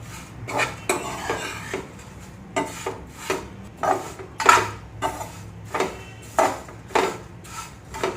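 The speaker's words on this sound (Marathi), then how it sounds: "आपल्याला गॅस मंद किंवा मीडियम आचेवरच पोहे भाजून घ्यायचे चांगल्या प्रकारे." Thick poha dry-roasting in a pan over low to medium gas flame, stirred with a spatula that scrapes and clinks against the metal in a steady series of close, moderate strokes, with no talking.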